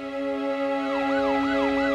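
Ambulance siren wailing in a smooth rising-and-falling sweep that repeats about every half second, loud and steady, with no voices.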